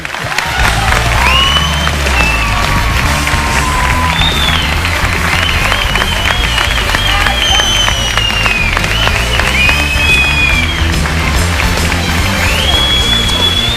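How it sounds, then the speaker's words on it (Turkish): A studio audience gives loud, sustained applause for Mustafa Bozkurt, winner of O Ses Türkiye, clapping steadily with cheering and whistles rising above it throughout. "Büyük bir alkış Mustafa Bozkurt için."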